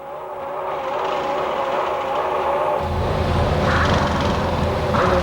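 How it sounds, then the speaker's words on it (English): A 1996 Formula 1 car engine is held on the rev limiter during a pit stop at the Australian Grand Prix, a loud, sustained buzzing drone with a fluttering pitch that grows rougher and louder midway. "You hear the engine of the rev limiter? He's trying to keep it right on the limit."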